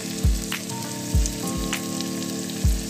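Kashmiri red chili, coriander powder, turmeric and garam masala fry with softened tomatoes in a pan for methi moong dal. A steady close sizzle runs throughout, broken by a few regular soft knocks of stirring.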